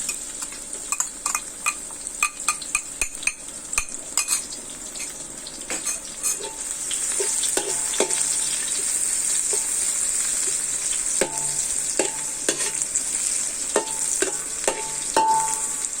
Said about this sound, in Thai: เราผัดกระเทียมเนี่ยให้มันเหลืองนิดหน่อย